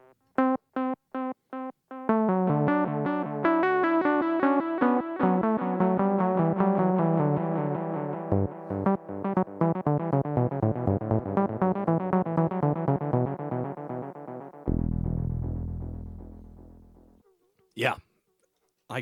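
Repeating bursts from an instrument feed into a dense, gritty tape-echo delay with saturation that stacks and smears, the repeats blurring together, then fading away with a clipped tail.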